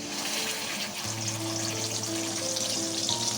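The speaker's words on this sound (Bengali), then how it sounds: "এখন এর মধ্যে আমি দিয়ে দেব টমেটো, আদা আর লঙ্কার পেস্টটা।" Tomato, ginger and chilli paste frying in a pan of spices for vegetarian chilli paneer, giving a steady close sizzle with a faint watery hiss throughout, and no talk.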